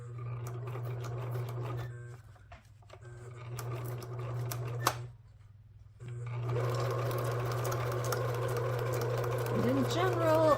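A sewing machine stitching a medium-width zigzag on a sewing-pattern-cover junk journal, whirring steadily with a constant motor hum, pausing briefly twice before running again at an even pace.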